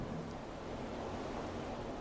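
Ocean waves at a beach in Santa Cruz make a soft, continuous wash of surf, steady and distant-sounding, with a light wind hiss and no voices.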